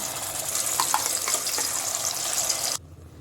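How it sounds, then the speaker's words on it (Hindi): Steady, bright sizzling of ground onion paste with cashews and almonds frying in hot oil, close and continuous, with a few small pops before it cuts off abruptly. "तो अब इसको अच्छे से हम तेल में फ्राई कर देंगे प्याज को"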